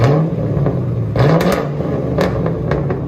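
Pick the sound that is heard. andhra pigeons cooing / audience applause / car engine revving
car engine revving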